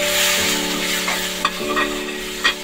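Finely chopped tomatoes are stirred into cooked spices in a pan for paneer bhurji, giving a close, steady sizzle with a few soft scraping strokes of the spoon over a constant background hum.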